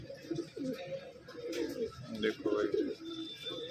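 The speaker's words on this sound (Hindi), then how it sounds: "दोस्तों ये कबूतरी दी है" Soft, low coos from a pair of red-necked pigeons repeat through the clip beneath a man's speech, with faint outdoor bird chatter in the background.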